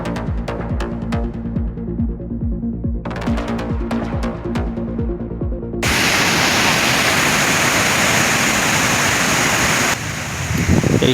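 Water gushing at speed through an open gate of the Rengali dam makes a loud, continuous roar that fills the second half, after a stretch of plucked, rhythmic music at the start.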